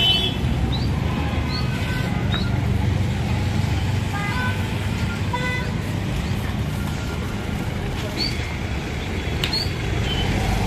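Jammed road traffic in Rajasthan with a flock of sheep on the road, a constant low engine rumble and several short car horn toots scattered throughout, some nearby and some farther off.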